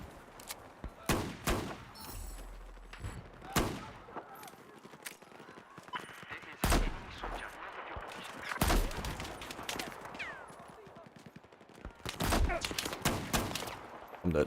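Video game gunfire crackles in scattered sharp bursts and volleys amid busy game sounds, some shots loud and close, others farther off, with people talking over it.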